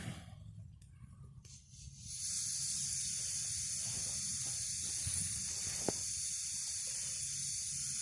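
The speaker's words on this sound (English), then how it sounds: "we'll get a little bit of water boiling here" A steady hiss of about 2 cups of water heating in a pot over an outdoor campfire, with light crackles and a faint click, rising after a quieter start and holding constant.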